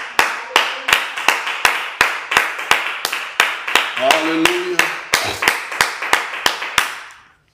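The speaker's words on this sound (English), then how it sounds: "Let's give God a hand clap of praise." A church congregation claps in praise during a noonday intercessory prayer service, with crisp, evenly spaced hand claps in a steady beat and a voice calling out briefly partway through.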